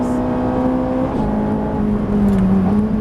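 A Ferrari 458 Italia at full throttle on track, its engine note climbing loudly and continuously with a brief dip at a gear change before pulling on strongly, close and dominant.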